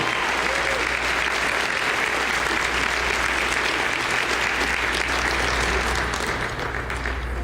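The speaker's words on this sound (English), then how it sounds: "So please give Dr. Ochoa a big round of applause." Audience applause at a volunteer recognition and awards dinner, a dense steady roar of many hands clapping that holds at full strength throughout, with a low hum beneath.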